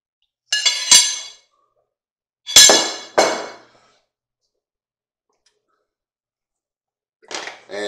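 Canned red and pinto beans drained for a beef roast chili: three short, close bursts of wet sloshing and metallic clinking, separated by silence.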